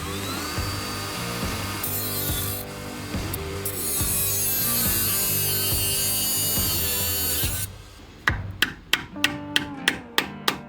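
A power tool grinds and cuts a slot near a stainless brake line during a Dana 60 axle swap on a Jeep YJ, a long whining cut followed by a string of short sharp bursts.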